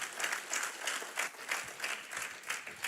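A church congregation at a pastoral anniversary service in Delaware applauds together, a steady wash of many hands clapping from across a large room, rolling on with no talking.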